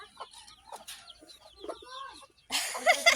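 A fighting rooster clucks in a few short bursts at moderate distance, followed by a sudden louder, harsher flurry of sound at the end.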